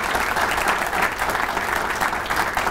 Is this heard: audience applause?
yes